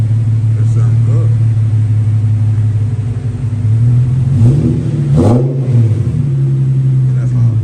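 Infiniti G37 with its muffler deleted revs loudly up close, a steady raspy drone that swells twice in short throttle blips, with a constant rumbling undertone.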